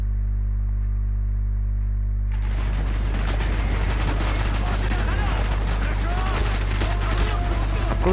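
Dense, rapid automatic gunfire erupts after a quiet low hum in Call of Duty: Black Ops, on the Vorkuta mission, with loud, continuous bursts and a voice faintly mixed underneath.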